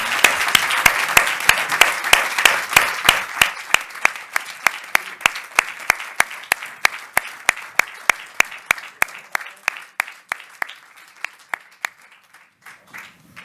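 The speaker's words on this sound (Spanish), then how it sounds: "Isabel Pellús, un fuerte aplauso para ella." An audience at the Guztiok Mugituz award ceremony claps loudly and close, the applause settling into a steady rhythmic beat in unison that gradually slows and fades to scattered final claps.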